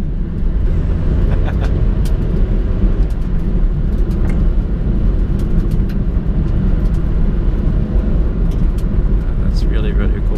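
A 1993 Honda Today Pochette driving on a road between fields, its engine a steady loud rumble that carries on through the run, with downshifts blended into the continuous low drone.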